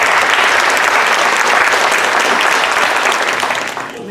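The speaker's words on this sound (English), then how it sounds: "let's give a round of applause for our panelists" Audience at a regional housing summit in Salinas, California applauds panelists, a dense, steady wash of clapping from a large crowd that holds loud for about four seconds before starting to thin at the end.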